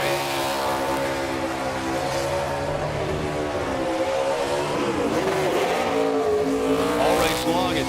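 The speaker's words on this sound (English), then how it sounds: "And what a restart Gragson had to win this race" Race cars roar past at full speed after a restart, led by Noah Gragson's car, with dense layered engine tones rising and falling and a steady loud wash of crowd-level racing noise throughout.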